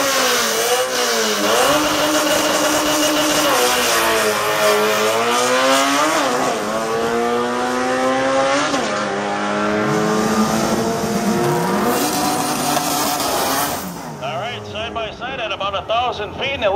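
A Hyundai import drag car races down the strip at Great Lakes Dragway, its engine loud and close, revving up through repeated gear changes with rising and falling pitch while an announcer talks over it.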